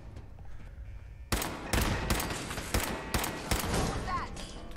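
Turret gunfire in Fallout 4 VR, sharp loud bursts arriving in a rapid uneven series of about six impacts after a quieter opening, with faint game ambience underneath.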